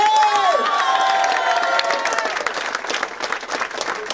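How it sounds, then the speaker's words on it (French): A crowd at a clown show gives loud, thunderous applause, with dense clapping and some cheers and shouts over a few seconds. "Je vais vous demander de lui faire un applaudissement du tonnerre."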